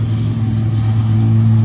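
A Peugeot 106 race car at a hill climb in Bouc Bel Air, its engine droning loudly and steadily at high revs as it passes close by.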